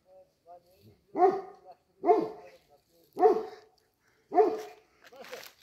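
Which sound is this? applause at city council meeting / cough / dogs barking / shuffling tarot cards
dogs barking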